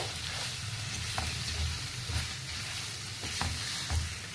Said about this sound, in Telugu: ఇప్పుడు టమాటా వేసేస్తున్నాను